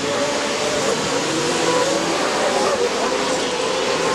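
Off-road race trucks roaring down the front stretch at Chula Vista, a dense, loud engine wash with rising and falling revs, partly under a commentator's voice.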